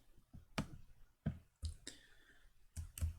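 Computer mouse buttons clicking while working in FreeCAD, about half a dozen sharp, close clicks spaced irregularly over a quiet background.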